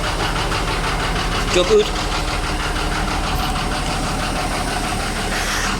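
A 1940s Scammell Pioneer truck engine runs steadily with a loud, continuous low rumble, rising briefly as the throttle is blipped; someone speaks a few words over it.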